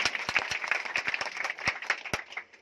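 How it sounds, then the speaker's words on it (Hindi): A seminar audience claps in response to a call for applause, producing a moderately loud patter of sharp individual claps with a few distinct strong hits standing out near the end, all without any voices. "तो एक बार अपने लिए जोरदार ताली प्लीज"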